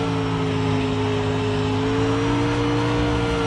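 Dirt late model race car engine in the iRacing simulator, a steady mid-pitched droning hum with a slowly rising tone, held close and loud throughout with no talking.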